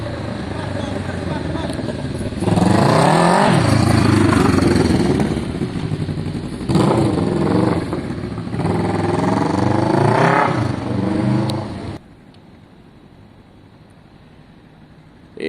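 Motorcycle engine running close by in a garage: loud rough idle rising into repeated revving surges, with a voice talking over it, before the engine cuts out, leaving near silence.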